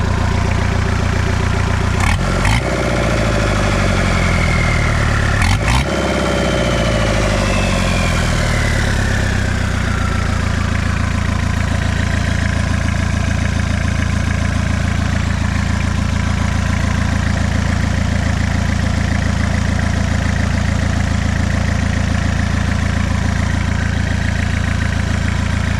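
Diesel-swapped Suzuki Samurai fitted with new manifolds and a new turbo, idling steadily and loudly up close, with a couple of brief revs early on before settling into a constant rumbling hum.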